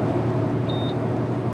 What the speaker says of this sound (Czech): Toto byl signál o zaplacení mýta.